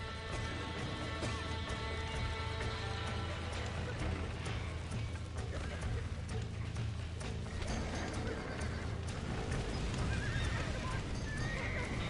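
Horse neighs and clip-clopping hooves in the Red Dead Redemption video game, set against a dense, busy game soundscape of machinery and ambience, steady and loud throughout.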